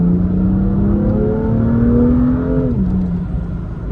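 A BMW M2 engine revs loudly and steadily, its tone climbing smoothly before dropping at the end, heard from inside or close to the car while driven by a racing driver.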